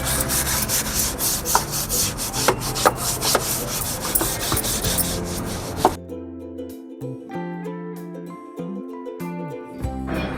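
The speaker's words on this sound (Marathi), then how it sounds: "त्याच्या खालच्या साईडला मी बघा अशी माती झालेली आहे, ते बी अशी घासून घेते आता." Soil is scrubbed off the bottom of a flower pot with repeated close, rough rubbing strokes. The scratchy scrubbing runs continuously and is then cut off as music takes over.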